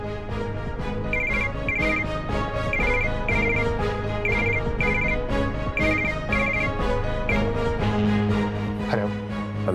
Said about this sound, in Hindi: रोहित ने अपनी कंपनी के आईटी हेड सैम को फोन लगाया।